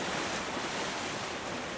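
Sea waves at high tide, washing up onto a shoreline fishing spot, a steady close rush of surf and spray with wind noise and no voices.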